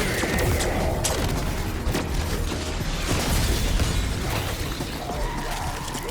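Sustained gunfire at a Mangler in Black Ops 6 Zombies, with dense rapid shots and mechanical clatter over continuous game noise, loud and steady.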